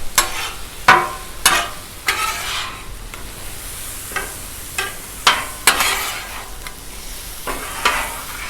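Chicken stir fry with peppers sizzling loudly on a 36-inch Blackstone griddle, a constant frying hiss broken by repeated sharp scrapes and stirring strokes of a spatula on the steel surface.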